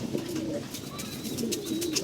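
Pigeons coo softly and repeatedly nearby, with low, throaty calls over light background noise.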